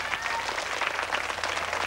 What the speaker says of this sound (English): Give him a little clap for doing that.